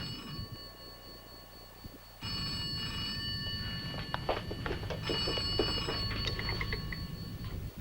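A telephone on a doctor's direct line rings with repeated bursts of electric bell tone, loud and close, with room noise and clatter around it and no talk over the ringing.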